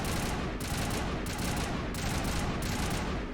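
Dense, overlapping gunfire in the video game Mass Effect Legendary Edition, a loud rapid barrage of shots with a few sharper bursts standing out, continuous throughout.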